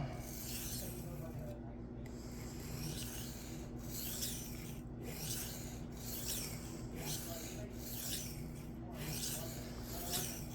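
A Cold Steel Kudu Lite knife is drawn across a Shapton Glass 220 stone in repeated rasping strokes, about seven or eight even, scraping passes close up with short pauses between them.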